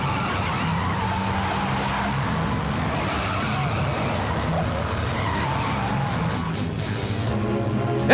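A car skids hard during a high-speed chase in an action film, a loud, sustained tire screech with engine roar running continuously for several seconds.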